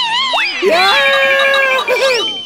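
A cartoon character screams loudly and shrilly in a Hindi kids' animated action show, with a sustained wavering cry that rises and falls in pitch over about two seconds, close and dominant.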